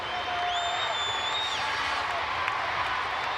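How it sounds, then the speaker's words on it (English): A wrestling crowd at a 1993 WWE UK Rampage event roars and cheers in a steady, loud wash, with whistles rising over the noise. "This crowd really getting into it here."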